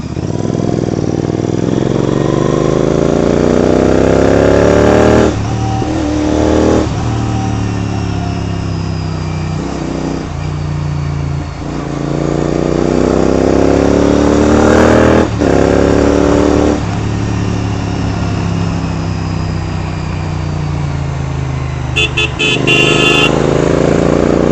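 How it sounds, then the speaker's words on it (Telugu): A Royal Enfield GT 650 motorcycle engine runs steadily and loud throughout a ride, with a deep, rising and falling exhaust note as it accelerates and shifts. A brief horn toot sounds near the end and there is no talk. "సౌండ్ అయితే సూపర్ వస్తుంది కాదు బండిది"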